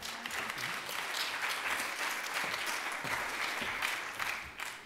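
An audience claps steadily to welcome speaker Katya Andresen on stage at the FOSI 2015 conference, a dense, sustained round of applause lasting throughout with no voices over it.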